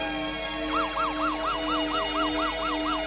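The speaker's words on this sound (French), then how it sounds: "vous voyez bien qu'il y a une ambulance qui arrive" An ambulance siren wails in a steady rising-and-falling cycle, loud and close, with traffic rumble underneath.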